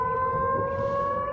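Steady wailing air raid siren with strong sustained tones, loud and continuous through the short stretch, sounding during wartime attacks on a city.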